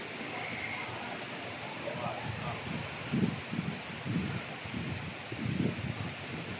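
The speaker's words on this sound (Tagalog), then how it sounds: "Lakas pa ng hangin." Steady roaring typhoon-like wind with gusty surges buffeting the microphone, a constant broadband rush swelling louder in bursts, outside the arrival area at Macau International Airport.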